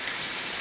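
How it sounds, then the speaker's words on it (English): Water from a kitchen tap runs steadily as a hand is rinsed off while preparing turkey tostadas, a continuous broadband hiss without pauses, close and fairly loud. "Rinse my hand off."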